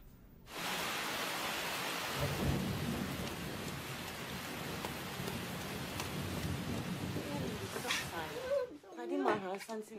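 Heavy rain pours steadily in a storm, a dense loud hiss that fills nearly the whole stretch before cutting off abruptly near the end, where voices begin speaking.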